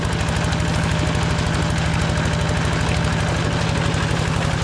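An engine-driven water pump fills a rice field on a morning in the fields, its motor chugging in a fast, steady rhythm with loud, constant thumping and no pause.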